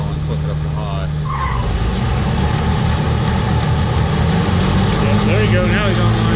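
A wheat harvesting machine's engine runs hard at full throttle, a loud, steady low rumble that fills the whole stretch, with people talking over it.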